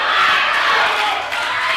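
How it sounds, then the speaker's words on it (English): A wrestling crowd at an NWA Anarchy Fright Night 2012 show in Cornelia roars in a dense, steady wall of cheering that stays loud and close throughout. "The crowd getting louder and louder here in Cornelia."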